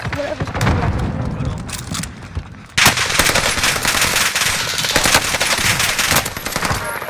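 Gunfire in the video game Caldera, rapid bursts of automatic shots in close succession, with a quieter lead-in before a sharp loud onset near three seconds and steady crackling volleys after.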